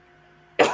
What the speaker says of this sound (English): you're gonna hear a lot of yeah. coughing tonight, people